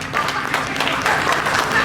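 Crowd applause from a fair-show audience voting for first place, a steady dense clapping that holds loud and close for under two seconds.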